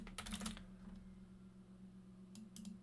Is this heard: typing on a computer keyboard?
yes